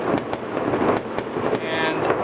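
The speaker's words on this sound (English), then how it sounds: "these are individual fireworks. Homeowners are setting these up" Individual fireworks set off by homeowners pop and crackle in a dense, continuous barrage, several sharp bursts standing out over a steady wash of distant explosions.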